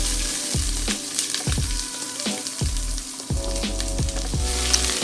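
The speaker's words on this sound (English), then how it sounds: "we're going to add in our freshly chopped onion" Freshly chopped onion frying in oil in a pan, a loud, close sizzle with repeated thumps and scrapes as it is stirred.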